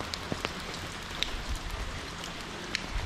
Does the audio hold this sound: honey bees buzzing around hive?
no